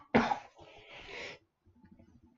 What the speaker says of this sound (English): trying to muffle the sound of my coughs